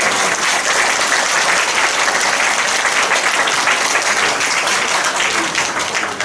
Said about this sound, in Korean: 우리 권사님들 한 번 더 박수 쳐 주세요.